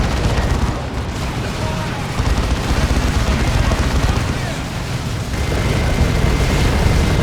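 A Soul Cannon and a Plasma Cannon fire in a Dawn of War 2 battle between an Apothecary and an Inquisitor. Dense, continuous booming blasts and gunfire form a loud, roaring wall of noise with no clear gaps.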